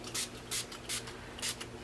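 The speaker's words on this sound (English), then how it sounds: "I just spray the tips of my brushes like so" Four quick bursts of Sephora antibacterial cleaner are sprayed onto the tips of makeup brushes, each a short, crisp hiss coming at a fairly even rhythm, close and fairly loud against quiet room tone.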